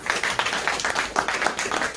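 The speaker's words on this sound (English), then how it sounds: "Let's give him a warm round of applause." A small audience at a cryptocurrency presentation gives brief, moderate applause, with rapid individual claps in an uneven patter for about two seconds and no talking over it.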